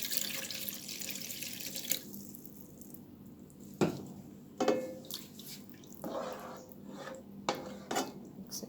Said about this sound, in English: Add some water, about a cup of water.